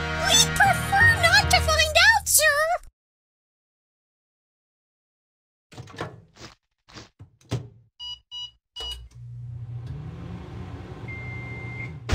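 After a burst of music in an animated cartoon, a microwave oven door clunks shut, a few short electronic beeps sound, and a steady microwave hum runs on.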